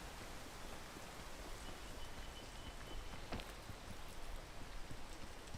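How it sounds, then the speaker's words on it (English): Soft, even rain patters as a constant hiss in a video game, faint and unbroken with no talk over it. "And it's raining again."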